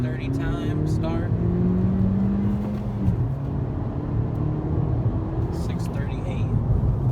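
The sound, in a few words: 2018 Honda Civic Si accelerating hard, 0 to 60 run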